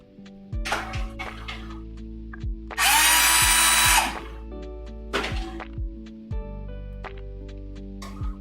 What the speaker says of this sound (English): To run a drill through this so that I'm not fighting the threads in this part.